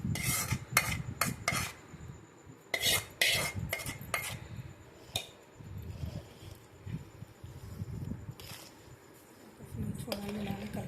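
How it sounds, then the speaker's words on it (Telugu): A spoon scrapes and clinks against a pan while amla chutney is stirred into hot oil. Close, irregular bursts of metallic scraping come with pauses between them, and a voice talks faintly now and then. "మనం ఎంతైతే ఆయిల్ వేసామో అదంతా వేసి కలుపుతున్నాను నేను."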